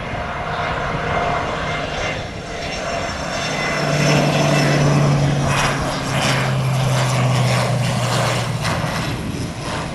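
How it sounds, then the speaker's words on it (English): Jet noise at an airport around a 2008 Learjet 60 eleven-seater, a loud steady roar that swells in the middle with a low droning tone, heard alone without talk. "Look at this, 2008 Learjet 60, 11-seater. Good looking aircraft."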